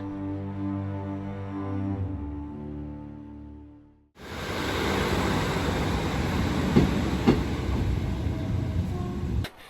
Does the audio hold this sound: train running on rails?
yes